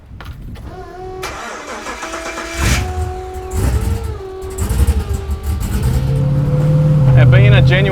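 A V8 van engine cranks and catches, then settles into a rough idle broken by several blips of the throttle, climbing into a louder, sustained rev near the end.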